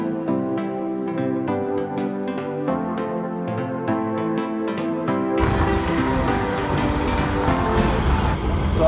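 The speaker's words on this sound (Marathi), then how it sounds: "सो आता ट्रेनमध्ये बसलोय आपण आणि चाललोय." A local train to Thane rumbles loudly in steady, broadband noise for the last few seconds, after a stretch of background music.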